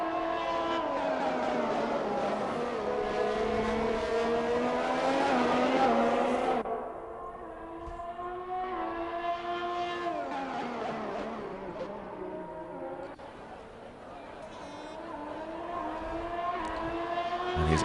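A Haas Formula 1 car engine in a racing video game at Bahrain, a loud high-pitched whine rising and falling through gear changes, dropping off partway and building again.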